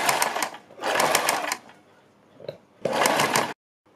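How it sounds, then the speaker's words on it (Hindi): A sewing machine stitches a strip onto a kurti neckline in three close, loud bursts of rapid whirring stitching, separated by short pauses and ending abruptly in silence. "इसके ऊपर इसी निशान के ऊपर रखते हुए सिलाई लगा लेंगे"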